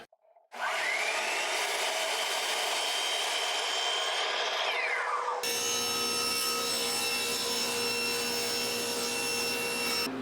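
Power saw cutting through plywood, a loud, close, steady whining cut that shifts partway through into a different sustained motor drone, running continuously without talk.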